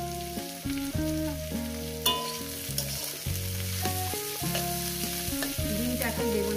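Chopped vegetables fry in a hot pan with a steady, close sizzle, broken by scraping strokes as they are spread and stirred, over soft background music.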